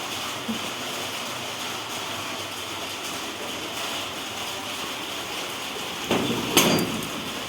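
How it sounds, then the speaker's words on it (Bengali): Rain falls in a steady, even hiss close by, with a brief clatter near the end and no talk. "এই দেখো বন্ধুরা বৃষ্টি হচ্ছে দেখতে পাচ্ছ বৃষ্টি হচ্ছে কেমন"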